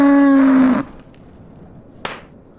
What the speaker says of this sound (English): Apparently I also did the cow sound.